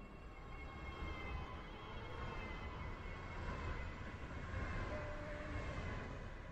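A train rolls into Newry station in the Stepford County Railway video game, a steady low rumble with a sustained whine and faint tonal hum, continuous and fairly quiet throughout with no voices.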